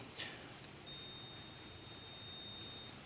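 A steady electronic continuity beep from a multimeter holds for about two seconds after a couple of brief clicks, fairly quiet over faint background hiss, while testing a 1998 Club Car DS golf cart.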